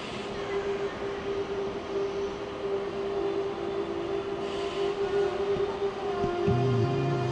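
An intercity train from Stuttgart pulls into Frankfurt Hbf, giving a steady rumble with a sustained electric whine throughout and a rising squeal near the end, close and continuous.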